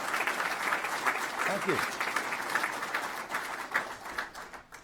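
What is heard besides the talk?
audience applause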